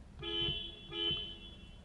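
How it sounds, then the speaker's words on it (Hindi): A 2022 Mahindra Scorpio Classic SUV horn blares twice in short, steady electronic tones, close by, with a brief pause between the two honks. "ये इसका हॉर्न"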